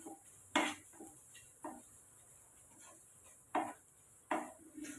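Vegetables and salt being mixed together in a bowl, giving several sharp clinks and scrapes of a utensil against the bowl spaced irregularly over a quiet background.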